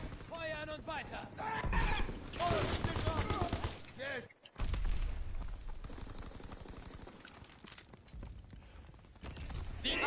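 Soldiers' rifles and machine guns rattle in dense bursts in Call of Duty WWII, with loud shouted voices over the gunfire and a brief pause before the shooting resumes.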